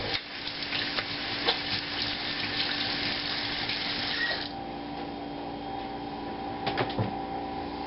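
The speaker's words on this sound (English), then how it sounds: "Wash my hands here." A kitchen tap runs steadily while hands are washed under it during meatball prep, with a loud broadband wash of water that drops in level partway through and continues more quietly, punctuated by a few brief knocks near the end.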